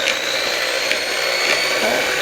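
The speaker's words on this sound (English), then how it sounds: "electric mixer because the cream cheese will mix up a lot better" An electric mixer whirring through cream cheese with powdered sugar and lemon juice, a steady mid-pitched motor drone running unbroken and close for a couple of seconds.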